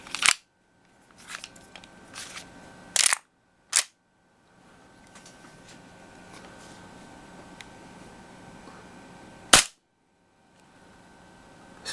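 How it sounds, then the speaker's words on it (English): A Tokyo Marui MP7A1 gas blowback airsoft gun running on propane and firing 0.20 g BBs over a chronograph: about six sharp, close single shots with irregular gaps, separated by quiet stretches and a faint hiss. "I'm going to be doing a chrono test now for the MP7 using Mad Ball .2s and propane"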